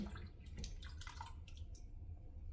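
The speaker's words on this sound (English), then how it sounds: "Just want to drain that water out." Water draining from filled canning jars of fresh sweet potatoes, heard as quiet irregular drips and splashes with a few brief trickles over a low background hum.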